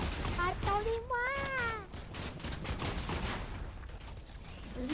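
Video-game gunfire crackles in short bursts in a battle-pass season map, mixed with a voice-like warbling tone and other game effects.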